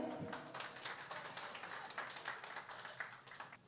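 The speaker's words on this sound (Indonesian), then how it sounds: "Kalau gitu tepuk tangan lu buat cewek" Light audience clapping at a stand-up comedy show, a short faint patter of hands lasting a few seconds with no voices over it.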